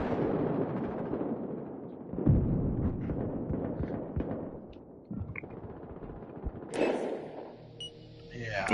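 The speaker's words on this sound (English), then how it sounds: "Frag grenade out!" A frag grenade goes off in the shooter Battlefield Hardline amid ongoing gunfire, a sudden loud blast followed by rumbling decay, with people talking over the game audio.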